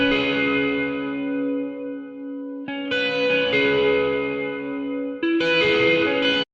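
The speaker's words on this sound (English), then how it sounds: "adding a limiter to make that pick attack feel bigger, and then layer 2 reverbs, the Valhalla and the Kilohertz reverb" Heavily processed electric guitar through an amp with a limiter and two layered reverbs, Valhalla and Kilohertz, in a metalcore style: three sustained chords ringing out with long washy tails, each new strike sharp and loud.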